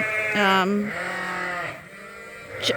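Sheep bleating in a pen where ewes are kept with a ram, a couple of close, loud wavering bleats with a quieter pause between them.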